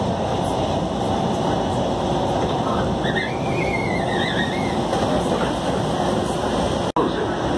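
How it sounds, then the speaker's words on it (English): An airport terminal train at Dallas Fort Worth rumbles steadily as a loud, continuous low roar throughout, with a faint rising and falling whine in the middle. "This train is departing."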